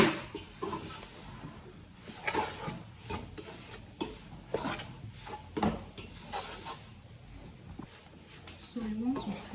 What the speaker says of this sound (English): So now we've added the egusi and we're just stirring.